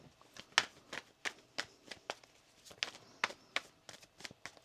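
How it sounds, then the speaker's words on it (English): Tarot cards shuffled by hand in a quiet room, a rapid run of crisp riffling snaps and flicks in uneven bursts, close and fairly soft, with no talking. "One more shuffle now."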